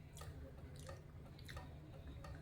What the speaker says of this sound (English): then as I started biting and chewing